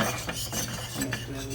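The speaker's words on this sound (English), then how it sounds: "And you're gonna whisk that." Ingredients whisked in a bowl for a homemade apple pie, a quick continuous scraping and rattling of the whisk against the bowl, close and steady.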